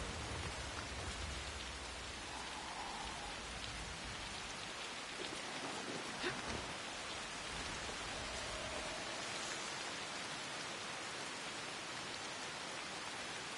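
Steady pouring rain in the video game Assassin's Creed Shadows, a constant broadband hiss of falling water with faint distant rumbles, heard alone without talk.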